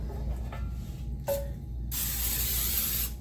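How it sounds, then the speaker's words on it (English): Olive oil sprayed onto a cooking pan in a steady hissing burst lasting over a second, preceded by a couple of short faint spritzes, close and fairly loud. "spray the pan,"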